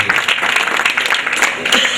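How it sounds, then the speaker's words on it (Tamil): An audience at a classical dance school's salangai pooja ceremony claps to welcome a dance teacher, a busy, loud patter of many hands with a few sharper peaks, continuing steadily. "உங்கள் கரகோஷங்களால் அவரை வருக வருகவென்று வரவேற்குமாறு கேட்டுக்கொள்கிறேன்."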